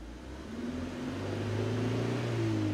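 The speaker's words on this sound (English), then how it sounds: "So if I rev up slowly" A BMW N42/N46 four-cylinder engine with a bad ignition coil, seemingly running on three cylinders, revs up slowly. The hum rises gradually and steadily, close and moderately loud, with no voices.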